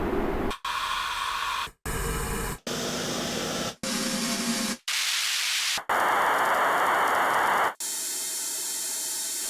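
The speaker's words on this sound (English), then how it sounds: "So these are quite kind of smooth noise sounds, quite static as it says." Synthesizer noise source playing static white noise in a run of separate bursts, each a smooth, steady hiss with a different tonal colour, divided by short silent gaps, loud and heard alone.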